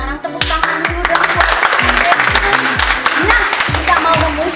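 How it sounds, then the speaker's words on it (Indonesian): Children clapping their hands during an online Sunday school session, with a loose flurry of claps running throughout beneath lively talking voices and a steady thumping musical backing. "Sekarang tepuk tangan dulu dong."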